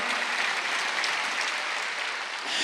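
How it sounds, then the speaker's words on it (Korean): Worshippers at a Wednesday evening church service at Jesus Centered Church break into sustained, even applause, a thick wash of many hands clapping at once that holds steady and eases slightly before the end. "박수."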